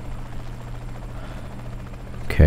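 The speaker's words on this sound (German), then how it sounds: "dieser merkwürdige Hubschrauber über mir, der geht mir irgendwie total auf den Sack." A helicopter circles overhead in Saints Row The Third, its steady rotor drone pulsing evenly throughout before a sudden louder burst at the very end.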